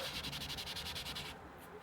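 A wet magic eraser scrubs plastic parts of a Millipede arcade machine during restoration, with rapid rhythmic back-and-forth rubbing strokes close up that stop abruptly near the end.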